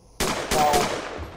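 Gunfire from the Unreal Engine Third Person Shooter Kit game, three sharp loud shots fired in quick succession with a short ringing tail between them.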